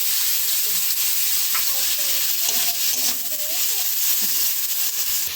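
Chicken singara filling, meat with ginger, frying and simmering in a pan, giving a steady broad sizzle that runs the whole time, with faint stirring scrapes and light clinks underneath.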